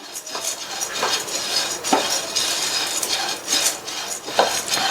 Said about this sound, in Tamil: இதை மிதமான தீயில வச்சு ஒரு 2 நிமிஷத்துக்கு மட்டும் வறுத்துக்கங்க